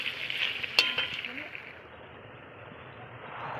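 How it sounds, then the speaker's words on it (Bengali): Chicken being sautéed in a pan over a wood fire for a red curry gives off a steady, moderately loud sizzle with a sharp clink near the start, then eases to a softer fry. "এবার একটু কিছুক্ষণ এটা কষবে, তারপর আমি এর মধ্যে জল দেব।"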